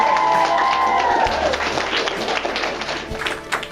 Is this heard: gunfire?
no